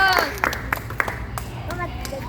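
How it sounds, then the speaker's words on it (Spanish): Spectators at a dinosaur show at a fair give a brief round of clapping, with some sharp individual claps standing out. Crowd chatter and a voice carry over it. "vamos a despedirlo con un fuerte aplauso"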